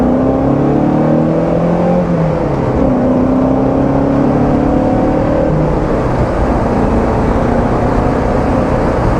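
A 1978 Alfa Romeo Spider with a 111-horsepower engine pulls through a rolling acceleration, heard from inside the car as a loud, steady drone whose pitch climbs through a gear, drops at a shift and rises again, with no talk.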